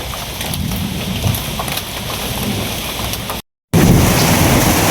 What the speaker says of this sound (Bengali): প্রচুর বৃষ্টি শুরু হইল।